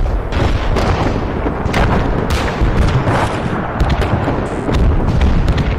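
Mortar fire and explosions boom nonstop in a World War II battle in the game Gates of Hell, set in Finland, forming a dense, loud, rumbling barrage with sharper cracks scattered throughout and no pauses.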